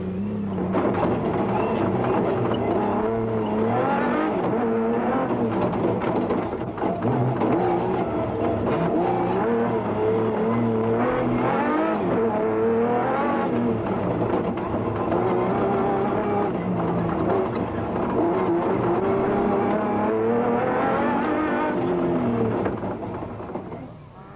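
Off-road rally racing trucks, including a Ford Racing Ranger, a Nissan and a Toyota Land Cruiser, charge through dust at the 2003 Tarka 400, their engines roaring loudly and continuously with shifting pitch throughout.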